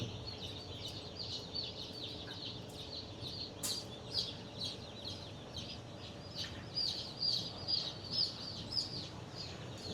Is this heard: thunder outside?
no